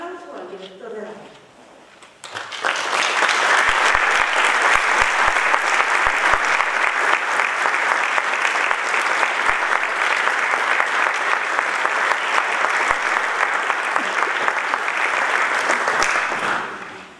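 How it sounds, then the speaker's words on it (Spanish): Audience at a choir concert by the Coral de Onil in Beneixama applauds: after a brief spoken moment, loud, dense clapping starts and holds steady for about fifteen seconds before easing off at the end. "Y ahora recibamos con un aplauso al director de la música."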